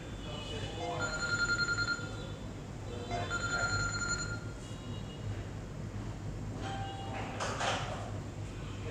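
Telephone ringing indoors at a computer training centre, a few bursts of bright electronic ring tones repeating at moderate volume over background room noise, with people talking.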